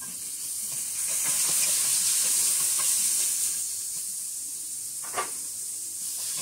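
Carrots and onions stir-fried in a pan for pancit bam-i, a bright steamy sizzle swelling loud then easing, with repeated scraping stirs and one sharper clatter near the end, no talking.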